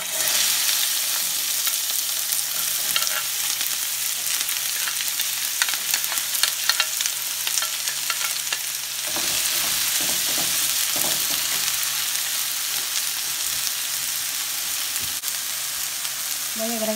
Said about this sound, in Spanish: ahora sí he agregado un poquito de aceite en este sartén. Ya tengo aquí los nopales ya cortados. También voy a agregar un pedazo de cebolla.